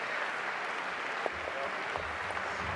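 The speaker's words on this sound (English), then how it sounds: "Big round of applause from the audience" Audience applause at the men's final of the 2015 European Masters curling event, a steady broad wash of clapping from a crowd at moderate distance with a few sharper claps standing out.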